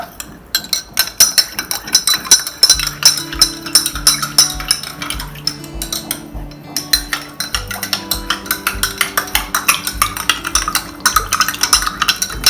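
A spoon stirs sugar into water in a container for popsicles, clinking and scraping rhythmically and repeatedly against the sides, fairly close and steady with no talking.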